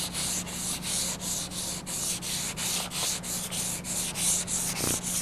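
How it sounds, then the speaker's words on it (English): Rhythmic strokes of 180 to 220 grit sandpaper sanding glazing putty on a car body repair, about a dozen even back-and-forth passes, close and steady. "come back and sand the spot and glazing putty with 180 to"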